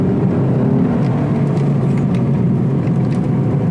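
A Lexus fitted with a Takeda cold air intake roars continuously under load, a loud, dense engine and intake drone that holds steady throughout without pauses or voices.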